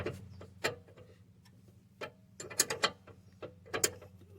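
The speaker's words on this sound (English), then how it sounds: "snugging down the bottom of this sway bar link on the passenger side, just using a 15mm wrench" A 15mm wrench snugs down the lower end of a sway bar link on the passenger side of a Mercedes-Benz C240, giving faint, irregular ratcheting clicks in short bursts over a low steady hum.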